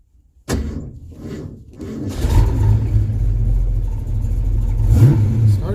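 A Ford Mustang on a cold day with a newly set idle mixture: a sharp crank, a short pause, then the engine catches and settles into a loud, steady rumbling idle close by.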